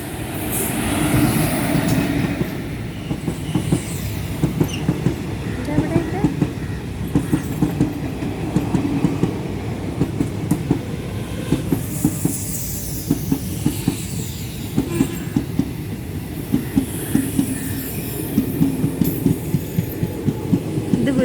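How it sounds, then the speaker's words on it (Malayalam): A Guruvayur-bound train rumbles past close by for a long stretch, with steady rhythmic clickety-clack of wheels over rail joints and a hissing roar, no voices. "അടുത്ത ട്രെയിൻ വരുന്നുണ്ട് അതും കാണിച്ചു തരാം"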